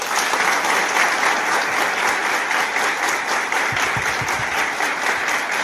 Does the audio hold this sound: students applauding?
yes